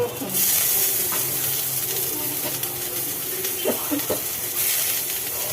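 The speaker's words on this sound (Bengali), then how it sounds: "তাহলে তেলের উপরে দিলে শুকনো লঙ্কা পেঁয়াজ আর দেবে হচ্ছে রসুন" Dried chillies, onion and garlic fry in hot oil with a loud, steady hissing sizzle and occasional stirring scrapes, heard up close with no talking over it.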